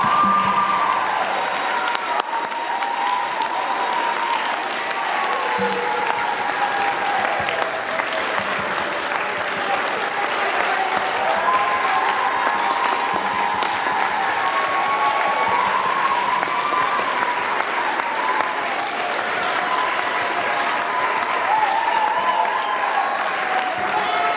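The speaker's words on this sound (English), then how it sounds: "Can we give our 7th graders just a big round of applause?" Sustained applause and cheering from a school showcase audience honoring 7th graders, a steady dense roar of clapping that fills the whole stretch.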